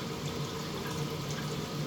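Water drains through the siphon of a multi-tank aquarium sump system, a steady, close splashing and gurgling flow like a small waterfall, with no talking.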